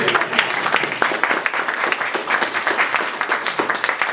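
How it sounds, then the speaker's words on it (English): Audience applause at a 2012 Winter TLI education session, a sustained round of dense, fairly close clapping filling the whole stretch with no voices over it. "So, let's give you a round of applause."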